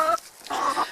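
Buff Orpington chickens in a winter coop, with short soft clucks and a brief higher call, close by with no talk over them.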